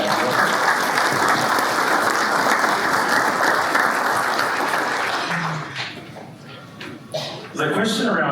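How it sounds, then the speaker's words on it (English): An audience at a Pacific economic insights event in Auckland claps in a sustained, dense round of applause that thins and fades out toward the end. "So another round of applause for Ben, Sarah, Jodie, Rob, and"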